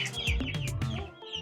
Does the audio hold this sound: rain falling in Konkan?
no